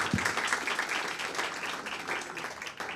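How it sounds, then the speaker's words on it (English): Audience applause at a festival book event, a steady wash of many hands clapping at moderate distance for the whole stretch, with faint voices mixed in. "can we give a round of applause"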